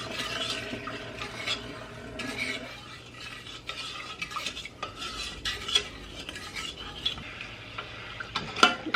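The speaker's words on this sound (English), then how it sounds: "And then I'm just gonna stir this." Sugar and lemonade mixture stirred in a pot heating toward a boil, a spoon scraping and clinking against the pot in irregular strokes over a faint simmer, close and unaccompanied by voices.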